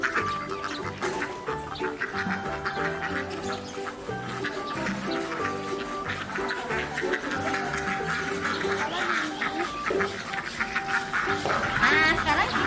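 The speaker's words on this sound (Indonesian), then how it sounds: "Ada bebek juga nih di sini." Ducks at a farm quack repeatedly in uneven bursts, with some clucking fowl mixed in and faint background voices throughout.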